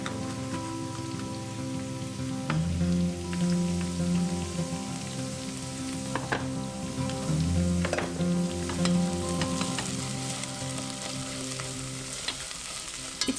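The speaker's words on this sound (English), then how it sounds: "I'm adding my tomato and red pepper paste, going to cook for a couple of more minutes" Tomato and red pepper paste sizzles steadily with caramelized onions in a pan for a Turkish weekday dinner, a continuous close frying crackle broken by occasional stirring scrapes and clinks, with no voices.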